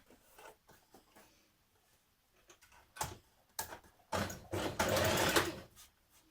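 Short bursts of a sewing machine stitching a formal skirt seam start and stop amid handling clicks and fabric rubbing, ending in a louder, longer run of stitching.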